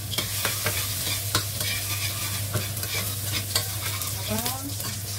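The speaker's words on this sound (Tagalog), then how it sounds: "So ang unahin natin guys ay mantika. Yan. So guys, luto na natin yung garlic." Garlic frying in cooking oil in a pan while spaghetti is being prepared, with steady crackling sizzle and repeated sharp scrapes and clinks of a utensil stirring, close and fairly loud, with no talking.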